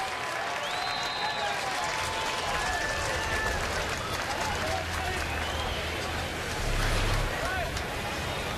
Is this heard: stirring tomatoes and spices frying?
no